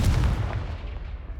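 A Confringo blasting spell explodes in the Hogwarts Legacy video game, a single loud, deep boom that rumbles and fades over about a second.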